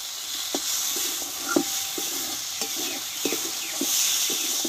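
Okra frying in a little oil in a pan, a continuous sizzle broken by repeated scraping strokes of a spatula stirring at an uneven rhythm, close and fairly loud, with no talk.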